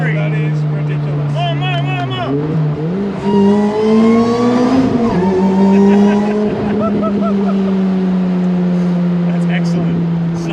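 Supercharged Lotus engine revving hard close by, its steady drone rising and falling through several pulls with supercharger whine, while people talk over it.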